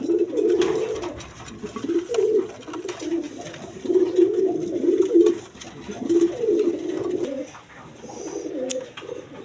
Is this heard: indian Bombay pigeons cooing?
yes